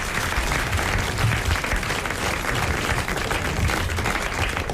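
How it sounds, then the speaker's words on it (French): A studio audience applauds a quiz winner on a 1980 French radio game show, with dense, sustained clapping that stays loud and even from start to finish and no talking over it. "que vous allez applaudir"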